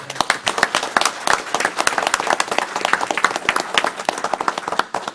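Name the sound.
audience applause at county board meeting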